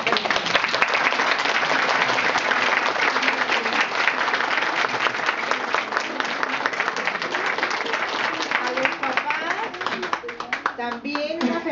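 Parents give the children a dense, loud round of applause at a 2012 school fashion show, the clapping steady and close throughout, with a few voices rising near the end.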